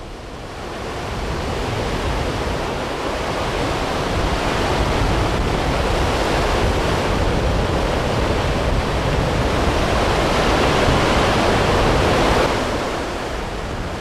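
Ocean surf breaking along a rocky coast, a steady broadband wash that swells louder midway and stays dense and fairly close, with no voices.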